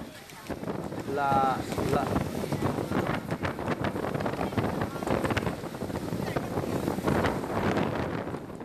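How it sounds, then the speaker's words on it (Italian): Scirocco wind gusts across flooded Venice in a steady, blustery outdoor roar, with water and boat noise mixed in and a person talking over it throughout. "Qui sentiamo, ecco, scusami, sentiamo anche il vento, no?"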